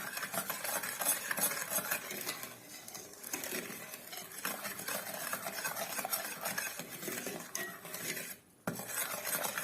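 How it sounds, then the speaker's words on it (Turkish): Steady scraping and stirring of a cocoa semolina dessert in a pot, with the spoon clattering against the pan continuously at close range, no talking. "Ve karıştırıyorum. Gene toparlık toparlık kalmaması için."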